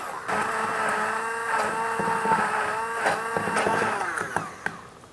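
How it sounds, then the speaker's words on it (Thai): Electric blender whirring steadily as it purées a chunky red marinade for Thai cashew chicken, a continuous motor drone with shifting pitch as the contents churn, fairly close and with no talking. "จากนั้นครับ เราก็จะทำการปั่นนะครับ"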